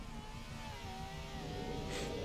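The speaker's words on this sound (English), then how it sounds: "Oh, what a horrible engine sound." A car engine in Forza Horizon 4 holds a steady, droning rev with a thin whine rising over it, moderately loud and continuous, with no talking.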